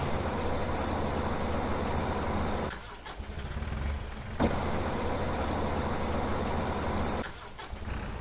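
A tractor engine runs in Farming Simulator 17 with a steady mechanical drone. Two short dips break it before it returns to full level, and no talk is heard.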